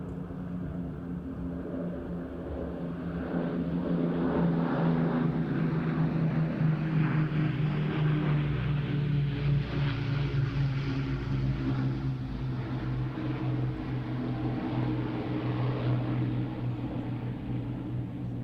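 A BBMF Avro Lancaster bomber making a low display pass with gear down at the Ayr Show, a deep droning multi-engine propeller roar that swells and holds steady, loud and continuous with no voices.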